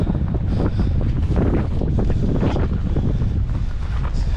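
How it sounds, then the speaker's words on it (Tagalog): Strong wind roars steadily across the microphone while lure fishing by water, a loud, continuous buffeting rumble with no pauses. "malakas kasi yung hangin"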